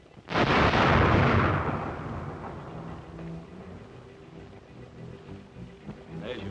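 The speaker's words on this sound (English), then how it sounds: "There's your rocket." A rocket is fired with a sharp, loud roaring burst that swells quickly and then fades into a lingering rumble, followed by quieter background sounds from a 1937 musical short.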